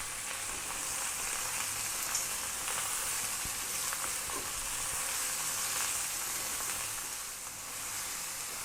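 Chicken and mushrooms fry in a pan with a steady, close sizzle that holds evenly throughout, with faint scrapes of stirring and no talking.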